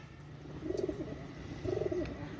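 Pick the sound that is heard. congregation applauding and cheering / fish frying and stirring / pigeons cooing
pigeons cooing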